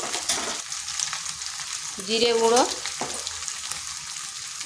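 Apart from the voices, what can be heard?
frying spice powders with ginger and garlic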